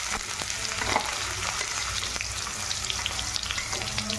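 Cumin seeds and chopped onion hit hot oil in a steady, dense sizzle and crackle, loud and close throughout with faint stirring scrapes underneath.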